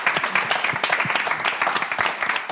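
Audience at a quiz show applauding, a brief burst of dense clapping from a crowd, fairly close and lively, with a faint voice underneath.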